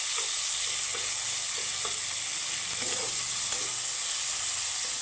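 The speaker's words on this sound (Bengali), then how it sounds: "একটু নাড়ে চেপে ভেজে নেবো যাতে টমেটোটাও নরম হয়ে যায়" Tomatoes fry in a pan for a panch phoron rui fish curry, giving a steady bright sizzle with faint, irregular stirring scrapes underneath, close and continuous with no talk.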